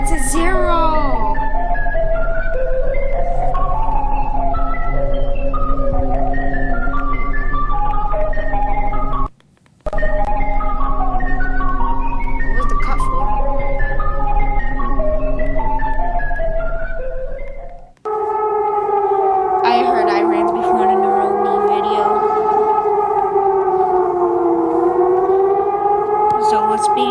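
Malta's emergency alert system siren sounds loud and alone: a steady harmonic tone pattern repeating for about nine seconds, a brief cut, another repeat, then a rising-and-falling wailing siren sweep through the final stretch.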